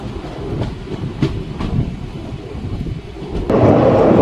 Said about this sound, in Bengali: রানীগঞ্জ স্টেশন ছেড়ে দিল।